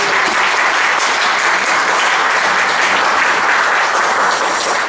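Loud, dense applause from a church congregation at a Christmas service, a continuous roar of many hands clapping close up with no talking over it.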